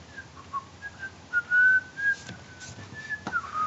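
Someone whistles a wandering melody alone, with clear sustained notes and short breaks between phrases, fairly close and moderately loud.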